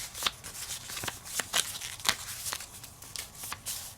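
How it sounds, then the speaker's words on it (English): Handwritten paper chance cards for a homemade board game being shuffled by hand, a series of quick, close papery riffles and flicks in an irregular rhythm, with no talking. "I'm gonna kind of like shuffle these up a little bit because they're still in the order that I wrote them down."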